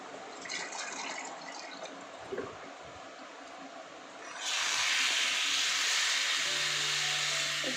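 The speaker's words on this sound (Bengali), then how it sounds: "এবার জল দিয়ে দেবো" Water poured into a pan of simmering curry of jackfruit and potato, a steady splashing hiss that swells into a fuller rushing pour midway, close and continuous.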